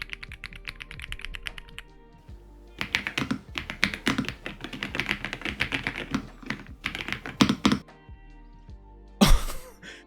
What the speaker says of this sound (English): this is the smoothest keyboard I have ever typed on